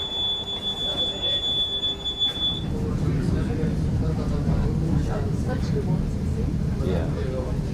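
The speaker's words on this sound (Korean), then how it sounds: "나는 노면 열차인 트램에 올라선다." A Prague tram running through the city, a steady low rumble of wheels and motor with a faint high squeal early on, under voice-over.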